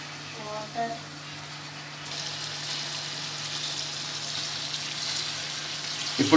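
Water poured from a small glass into a pan of pumpkin chicken curry gives a steady, moderately loud pouring hiss for the last few seconds, after a short burst of voice near the start.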